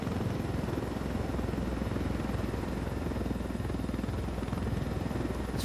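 A helicopter in a video game drones with a steady, continuous rotor hum and buzz that stays loud and unchanging throughout, with no talk over it.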